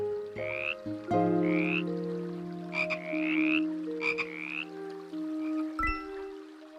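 A cartoon frog croaks repeatedly in a video game shown at Tokyo Game Show 2021, with short rising chirpy calls in irregular bursts over steady tonal game music and ambience.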